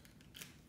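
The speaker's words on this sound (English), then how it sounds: "take some scissors and you like cut it" A few quick, faint snips of scissors close by, short crisp clicks in a brief quiet moment.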